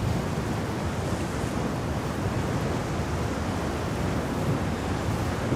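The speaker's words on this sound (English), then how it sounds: "listen to the waves. Roaring." Ocean waves roar steadily against the sea cliffs at a cliff diving event in Puglia, Italy, a loud continuous wash of surf with wind noise and no voices.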